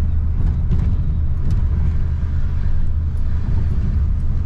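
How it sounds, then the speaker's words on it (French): A 1990 GMC Sierra Denali extended-cab pickup with a 7.4L V8 and dual rear wheels cruising on a road, a steady low engine drone with road rumble heard from inside the cab. "on est parti pour un petit essai routier donc à bord de ce GMC Sierra Duali, donc double roue à l'arrière"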